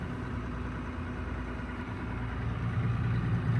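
A classic combine harvester's engine idles at the end of harvest, a steady low rumbling drone with constant mechanical texture that swells slightly louder toward the end, with no voices.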